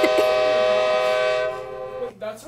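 A loud, sustained train horn blares as a sound effect for about a second and a half, then cuts off into brief chatter and voices.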